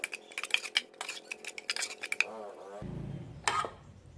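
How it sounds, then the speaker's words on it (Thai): Utensils clink and scrape against a bowl while Thai larb moo pork salad is mixed, a run of quick metallic taps followed by a softer stirring rustle and a final clink. "คนส่วนผสมทุกอย่างให้เข้ากัน"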